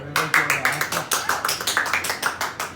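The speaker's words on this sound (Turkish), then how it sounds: "Alkışlayalım" A small family group clapping in a home at news of a pregnancy, a brisk, regular run of about fifteen sharp claps close by, with voices faintly underneath.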